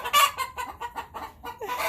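Chickens cluck in a quick, uneven series of short calls close by, a hen with her month-old chicks in a farmyard pen, with no talking.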